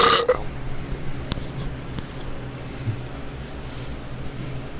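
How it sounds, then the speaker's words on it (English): A short, loud burp blasts right into a close microphone at the start, followed by quiet room noise. "Burp right into the mic."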